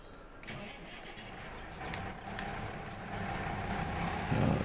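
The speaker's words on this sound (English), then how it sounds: "it actually sounds like a tractor rather than an electric vehicle like most of the base game ones do" A modded tractor engine in a farming video game cranks and catches, then settles into a low mechanical running tone that grows slightly louder toward the end, fairly quiet and with no talking.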